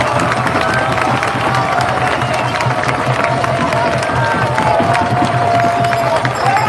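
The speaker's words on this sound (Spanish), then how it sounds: "Ahora sí aplaudamos a las organizaciones" A crowd at a rally applauds and cheers for organisations, sustained clapping mixed with shouts and a held vocal tone, loud and continuous throughout.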